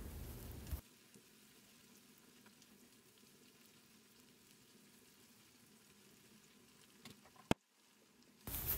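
Onions with a piece of tail fat frying in a pan after chili flakes, red pepper and black pepper are stirred in; a steady soft sizzle runs throughout, ending with a brief clack and a short pause.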